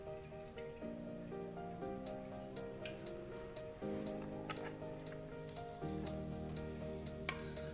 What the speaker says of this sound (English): Enter the oil into frying pan and add the garlic.